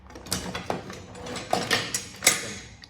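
Small metal F clamps being picked up and handled, giving a series of light clanks, ratchety clicks and knocks at an irregular pace, close by with no talking.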